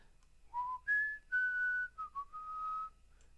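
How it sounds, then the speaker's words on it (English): A person whistles a short, clear melody of a few sustained notes, close and fairly loud, with no talking. "I might be too loud to whistle in this mic."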